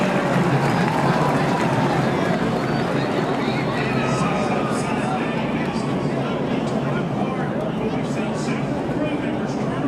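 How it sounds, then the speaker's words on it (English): Crowd roaring in the grandstands at a Daytona NASCAR race, a dense, steady wash of cheering noise filling the whole stretch, loud and unbroken, with a commentator's voice faintly mixed in. "Thumbs going up from all the crew members, and the crowd roars"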